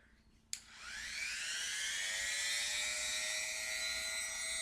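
A Dremel rotary tool starts with a sharp click and spins up into a steady high-pitched whine that holds constant and close for several seconds.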